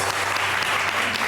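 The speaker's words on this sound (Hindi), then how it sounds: "बहुत सारी तालियां आयशा के लिए" A studio audience applauding a cooking show guest, a dense, steady burst of clapping lasting just over a second with no voices.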